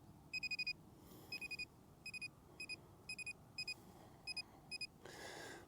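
A cheap handheld metal detector gives short bursts of electronic beeps, mostly in pairs of two or four, evenly spaced and clear over a faint background hiss, ending in a brief noisy burst.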